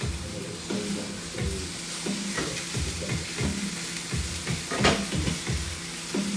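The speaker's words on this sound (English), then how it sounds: "We're gonna saute our cabbage in here." Cabbage sizzling and frying in a hot pan, with steady crackle and occasional stirring and scraping knocks from a utensil, close and moderately loud.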